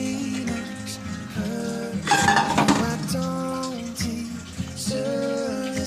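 A metal lid is set on a pot of fish ball curry with basil, made with clown knifefish balls for khanom jeen. A clanking, clinking burst of cookware stands out midway, with a voice and tonal background underneath.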